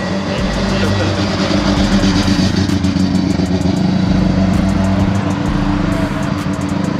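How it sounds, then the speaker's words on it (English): A rotary-engine car drones steadily nearby with a buzzy, uneven tone as it rolls slowly into a car meet, loud and continuous throughout. "Absolutely stunning rotary coming into the meet."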